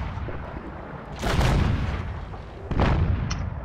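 A tank cannon fires in a World of Tanks stronghold skirmish at tier 6, two heavy booming shots about a second and a half apart over a constant rumbling battle background.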